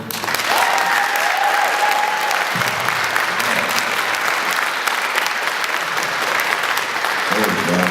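Audience applause rings out after a closing statement at an evening public meeting with alderman candidates, sustained clapping from a crowd holding steady for the full stretch, dense and fairly loud, with a brief voice near the start.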